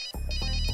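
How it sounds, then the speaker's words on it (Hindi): A phone ringtone plays a brief, steady electronic tone, loud and close, alone without talk. "Phone phone phone."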